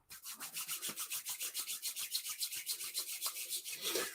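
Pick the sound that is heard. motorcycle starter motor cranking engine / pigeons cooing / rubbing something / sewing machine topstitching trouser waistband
rubbing something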